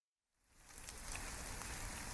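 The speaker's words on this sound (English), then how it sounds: "A heavy rain provides water for the towering old trees" Heavy rain falling steadily in a mountain forest of towering old trees, fading in from silence and then holding a dense, even hiss of drops on leaves and ground, fairly faint overall.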